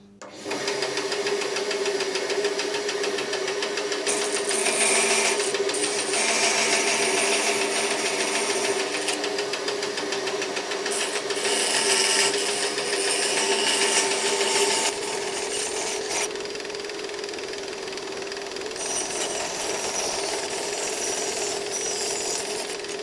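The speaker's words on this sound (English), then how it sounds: "so we'll get them cut out on the bandsaw" A bandsaw whines steadily as it cuts wooden blocks for a small boat build. The blade sound runs loud and close for about fifteen seconds, then eases to a lighter run-down, with no talking.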